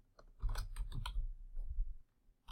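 A quick burst of computer keyboard typing, several clacking keystrokes close by, then a short pause before one more click.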